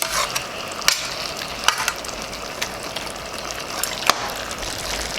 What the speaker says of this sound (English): catfish is a very firm fish and it's not breaking up, which is why we can stir it like this